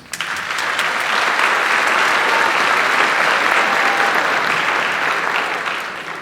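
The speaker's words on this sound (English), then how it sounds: "let's have a big round of applause for Mr. Ian, our wonderful accompanist." An audience at an elementary school winter chorus concert gives a sustained round of applause, dense clapping that rises fast, holds steady for several seconds and tapers at the end.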